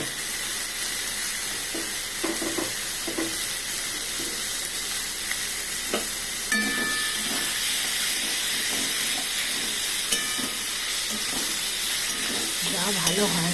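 Shrimp sizzle and fry in hot oil with turmeric and chilli, a steady hiss with occasional stirring clinks and scrapes, close and moderately loud.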